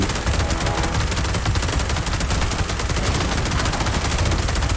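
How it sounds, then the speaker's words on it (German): Dense, loud gunfire from the Fallout video game, where a sniper rifle is fired, arrives as a continuous rattle of rapid shots with no pauses and no voices over it. "Boom! Doppelschuss, Mutti."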